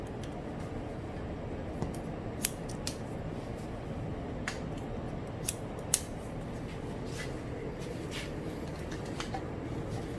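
Scissors snip through hair during a men's haircut in a barber practice exam cut, with sparse, sharp close snips over a constant low background hum; no speech.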